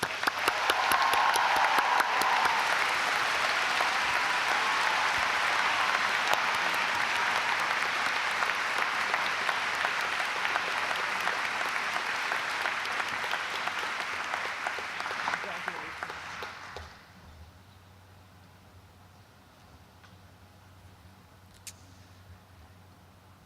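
Audience applause at a College of Saint Benedict commencement ceremony, a loud sustained round of clapping from a large crowd that fades out after about sixteen seconds into quiet room noise.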